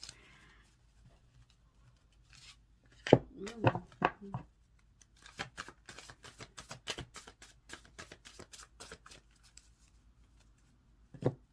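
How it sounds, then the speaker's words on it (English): Stiff tarot cards are shuffled in bursts of quick riffling slaps and clicks, close up, with pauses between rounds and a brief voice early on. "it's so hard to shuffle. I feel like I'm shuffling notebooks."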